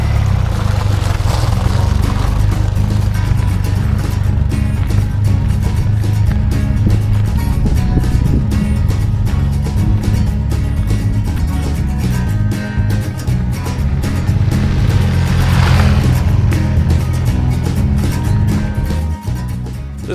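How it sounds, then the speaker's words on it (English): 1993 BMW R100GS Paris Dakar airhead boxer-twin motorcycle being ridden, its engine throbbing low and steady throughout, loud and close with wind and road noise mixed in. "Love the sound of the airhead"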